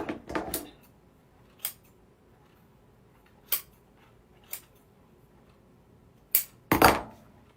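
Scissors cutting while crafting a cardinal attachment: several short, crisp snips spaced irregularly a second or two apart, ending in a quick double snip that is the loudest, close up with no talking.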